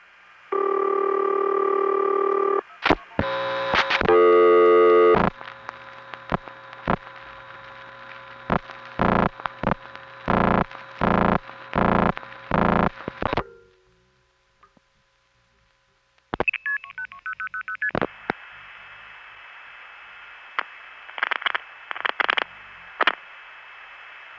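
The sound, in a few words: telephone call ringing through NX1 exchange, 1970s recording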